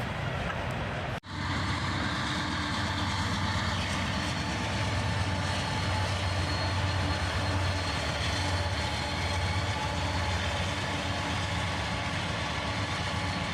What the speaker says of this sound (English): we'd have a train going the opposite direction, this time with a CSX unit trailing